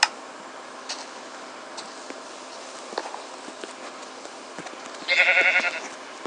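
Sheep bleat in a video game: one short, bright bleat stands out near the end over a quiet bed of small ticks and clicks, with no one talking.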